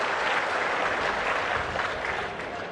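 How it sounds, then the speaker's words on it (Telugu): An audience applauds at an official public review meeting, a dense steady wash of clapping from many hands that carries on throughout and fades slightly at the end. "గట్టిగా చప్పట్లు కొట్టి అభినందించండి."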